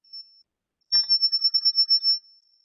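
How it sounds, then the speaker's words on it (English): A topologically pumped acoustic signal carried through edge modes of a phason-engineered metamaterial: a steady high-pitched tone that swells into a faster pulsing, warbling burst of similar beeps before fading, heard alone and clearly. "So this is the first topologically pumped sound through edge modes."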